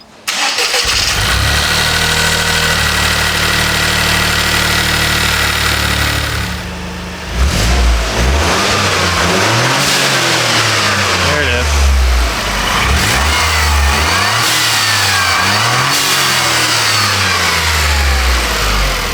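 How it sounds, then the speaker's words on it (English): A Toyota GR Corolla engine with a blow-off valve idles, then is revved repeatedly in sharp rising and falling bursts, close and loud, with a brief spoken remark. "how much the blow-off valve will be noticeable when you're revving the car"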